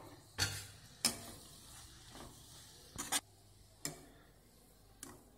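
Radish and greens being stirred with gram flour in a pan: a few sharp spatula knocks and scrapes against the metal, spaced irregularly over a low sizzle, close and fairly quiet, with no one talking.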